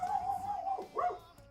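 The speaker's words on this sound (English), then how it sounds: "My next door neighbor is taking out the garbage and my dogs are freaking out." Pet dogs indoors whine and yelp in a short, rising-and-falling burst, reacting to a next-door neighbor taking out the garbage.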